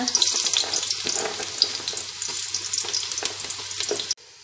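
Ginger frying in oil in a pan for arroz caldo, a bright, steady sizzle with occasional stirring clicks that cuts off abruptly near the end.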